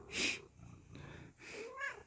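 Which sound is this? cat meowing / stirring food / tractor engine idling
cat meowing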